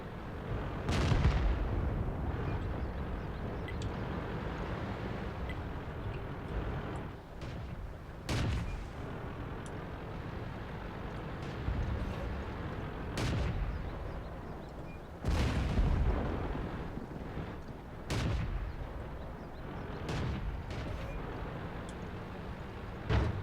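Tank cannons firing in World of Tanks on the Mines map, a string of loud sharp booms spaced several seconds apart, each with a rumbling tail over a continuous low battlefield drone.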